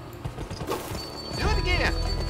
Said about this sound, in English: Press the sprint button to spur your horse.